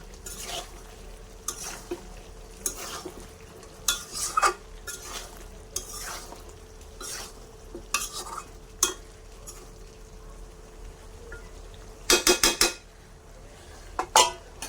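Chicken curry with eggplant being stirred in a pan, with repeated scraping and clinking of a utensil against the pot in irregular bursts over a faint low sizzle, close and fairly loud, no talk.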